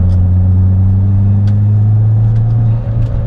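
A tuned car engine pulls in third gear at about 35 mph under throttle, a loud, steady low drone with a strong harmonic hum that holds without a break, close and continuous.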